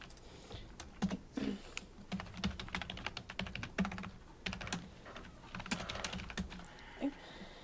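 Rapid typing on a computer keyboard while entering R code, with dense, irregular key clicks in quick bursts and brief pauses, close and clear with no talking.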